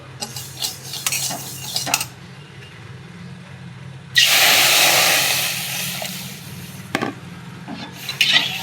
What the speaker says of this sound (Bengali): এবার আমি ডালটাতে একটু জল দিয়ে ধুয়ে নেব।